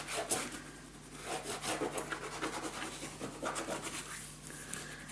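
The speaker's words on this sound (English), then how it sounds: "Burnish it down." Glued paper is burnished down onto a mini album page, giving soft, quiet rubbing and scraping strokes in an irregular back-and-forth rhythm at close range, with no voices.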